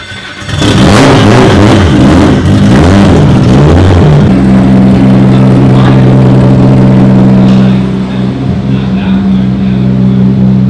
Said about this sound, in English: That's fucking loud. That's louder than Caleb's car